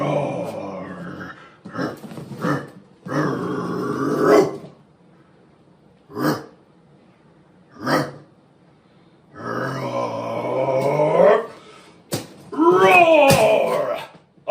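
A voice imitates a mighty lion's roar, a series of loud, drawn-out growling cries with short pauses between them, close and dramatic, ending in a longer wavering roar.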